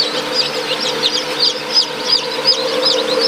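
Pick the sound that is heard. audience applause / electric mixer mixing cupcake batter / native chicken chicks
native chicken chicks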